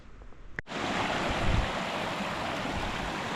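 A small creek flows in a forest valley, a steady broadband rushing and burbling of water that starts after a brief knock and continues evenly.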